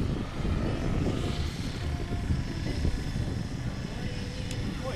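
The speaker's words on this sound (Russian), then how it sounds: "Вертолеты идут в авторотации одновременно." Two radio-controlled model helicopters descend side by side in autorotation with engines off at a Siberian fun-fly event, their rotors making a continuous airy whirring rush at moderate loudness, with a faint background hum.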